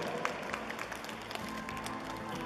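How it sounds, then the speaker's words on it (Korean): Faint, distant applause from a fan meeting audience honoring a lucky fan at a Yuna Kim event. The clapping is a steady, soft patter throughout, with a few sharper claps standing out. "박수 한번 해주세요"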